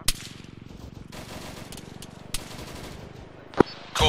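Sustained machine gun fire in the video game Arma 3, a rapid continuous burst rattling close and loud, broken by a few sharper single shots near the end.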